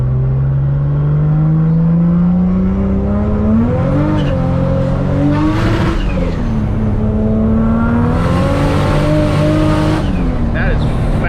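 Toyota Supra fitted with a bigger turbo accelerating hard, engine pitch climbing steadily through the gears with brief dips at shifts, loud and close, with turbo whoosh and tire noise, and people talking over it.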